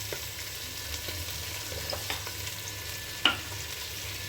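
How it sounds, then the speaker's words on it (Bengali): Cumin seeds, dried chilli, bay leaf and hing fry in hot oil with a quiet, steady sizzle, punctuated by a few light clicks of stirring and one sharper tap near the end. "আর তেলে একটু জিরে, গোটা জিরে, শুকনো লঙ্কা, তেজপাতা আর হিং একটু দিয়েছি"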